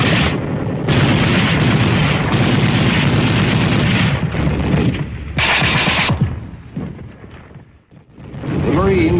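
Gunfire and booming blasts from foot soldiers and a Marine brigade firing from a ridge line in battle, dense and continuous, loud with distorted old-film quality, thinning out near the end.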